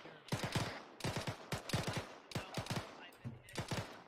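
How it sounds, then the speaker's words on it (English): Bursts of PKP machine gun fire in Arma 3, several rapid strings of shots in quick succession, loud and close, with brief pauses between volleys. "Why are they firing at the guy with the PKP?"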